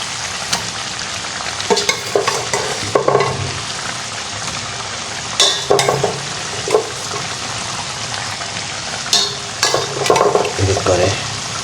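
Chicken pieces frying in a blended spice paste in a pot, with a continuous sizzle broken by repeated clatters and scrapes of stirring, close and loud, with no one speaking.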